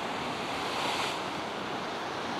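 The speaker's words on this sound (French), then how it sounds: "on n'a pas les vagues qu'on espérait. D'ailleurs, la plus grosse vague, là, vous voyez, elle arrive" Sea waves break and wash continuously along the shore at Biarritz in September, a dense, steady roar of surf with wind buffeting the microphone and no voices.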